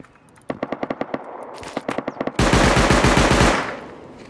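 AK rifle fire in a video game, with a series of distinct close single shots followed by a sustained, loud automatic burst that ends abruptly.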